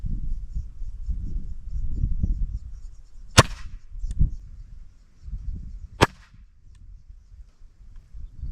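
A Gamo Swarm Magnum Pro .25 Gen 3i air rifle firing a heavy 33.9 grain AEA pellet into ballistics gel, two sharp close cracks a few seconds apart over low rumbling handling noise and faint clatter.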